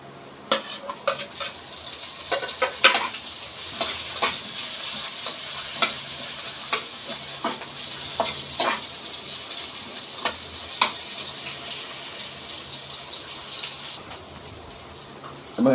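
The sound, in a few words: onions frying and being stirred in a pan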